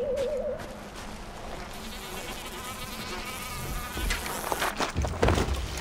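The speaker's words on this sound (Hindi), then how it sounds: "ये जो टटियों के ऊपर मक्खियां भिनभिना रही है ना, काफी रियलिस्टिक है" Flies buzzing over animal dung in the Far Cry Primal video game, a faint continuous insect drone under a rustling ambient bed, swelling slightly toward the end with no one speaking.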